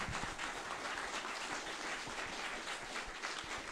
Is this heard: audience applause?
yes